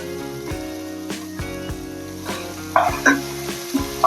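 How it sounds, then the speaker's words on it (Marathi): Peas, carrot and cauliflower sautéing in a pan for veg korma, with a steady frying sizzle broken by regular scraping and knocking of a spatula, growing louder with crackly bursts near the end, close up with no speech. "भाज्या व्यवस्थित परतून घ्यायच्या"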